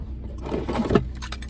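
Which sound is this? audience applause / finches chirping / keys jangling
keys jangling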